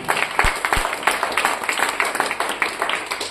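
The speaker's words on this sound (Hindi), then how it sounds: "मैं चाहूंगा आप सबके लिए एक जबरदस्त और जोरदार तालियां" A crowd at a motivational business seminar in India gives continuous applause, a dense and even patter of many hands clapping at fairly close range.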